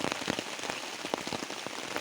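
Heavy rain falling on a forest during a downpour after hail, a dense steady patter of drops striking leaves and ground, close and continuous with no voices.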